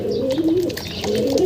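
Pigeons cooing at a racing loft on a derby day, a close, continuous low warbling coo from the birds with nothing else over it.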